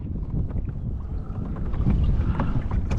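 Gusty wind buffets the microphone with a low, rumbling roar over choppy open water during kayak fishing, steady and loud throughout.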